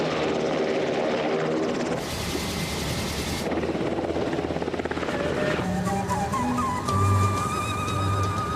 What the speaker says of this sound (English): Our royal tour of Jordan begins in the king's private Black Hawk helicopter